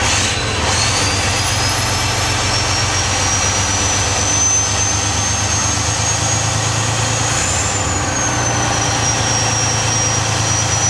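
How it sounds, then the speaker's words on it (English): A 2005 Freightliner Classic truck engine revs up steadily, a loud continuous roar with a rising high whine, held up close for several seconds with no talking. "Rev it up a little bit."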